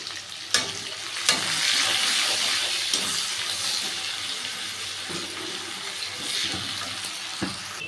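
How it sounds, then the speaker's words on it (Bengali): Onion frying in a pan with a little salt, a continuous close sizzle with a few sharp clinks of stirring against the pan. "পেঁয়াজটাকে আমি ভেজে নিচ্ছি"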